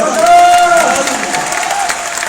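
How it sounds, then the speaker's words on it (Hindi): A crowd at a motivational seminar claps and cheers, a broad wash of applause heard under a voice, with a sustained tone early on that fades as the clapping continues. "एक बार आईएनसी के लिए जबरदस्त ताली बजाइए"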